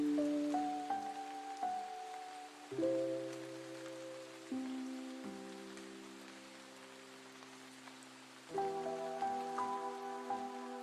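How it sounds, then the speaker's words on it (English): A hip hop music beat built on a rain sample, with a cinematic, old school feel: steady rain hiss runs under sustained melodic chords that change every few seconds, moderately loud, with no voices. "Everybody's using a rain sample today."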